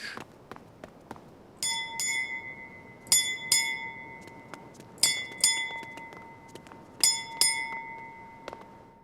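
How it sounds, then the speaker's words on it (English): A ship's bell aboard a Royal Navy sailing frigate rings out the watch in paired strikes, bright metallic clangs that ring on between each twin stroke, with a few fainter taps before the pairs. "each hour was marked by a twin ring, up to a maximum of 8 bells at the end of a 4-hour watch"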